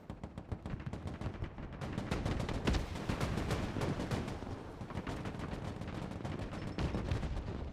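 Heavy guns pound during a siege battle in the video game Broken Arrow, sending a dense barrage of booming shots and rattling fire that builds quickly and stays loud and continuous throughout.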